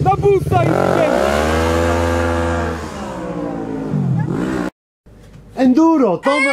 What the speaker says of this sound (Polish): Połamany plastik. Połamany, ale gra i burczy, nie Tomek?